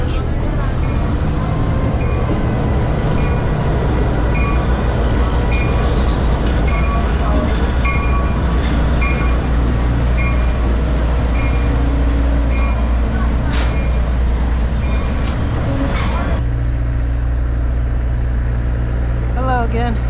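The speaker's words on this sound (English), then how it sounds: "Now arriving on track 1, train number 5000, Missionary Ridge." Train number 5000 arriving on track 1 at the Tennessee Valley Railroad Museum, a loud, steady rumble with low engine drone and rail noise, several sharp clanks, and a voice speaking over it.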